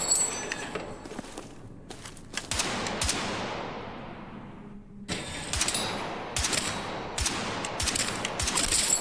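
Gunfire in the shooter game REDSEC: loud bursts of rapid automatic shots in two long volleys with a brief lull between, sharp cracks over a dense, noisy battle mix.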